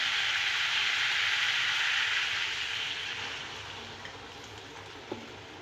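Water goes into a pan of half-cooked cauliflower and potato curry, giving a loud hissing sizzle that gradually fades to a softer simmer, with a couple of small knocks near the end.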